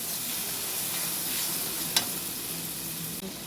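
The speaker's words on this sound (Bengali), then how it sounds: "দেবো এবার হলুদের গুঁড়ো আর লঙ্কার গুঁড়ো, আর দেবো সামান্য টমেটো সস দিয়ে ভালো করে মশলাটাকে কষিয়ে নেব" A spice paste of turmeric, chilli powder and tomato sauce fries in a pan with a continuous close hiss and sizzle, broken only by one brief clink.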